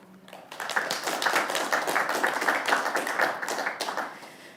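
A short burst of audience applause at an innovation competition finale, clapping rising quickly after a brief quiet start, holding steady and close for a few seconds, then tapering.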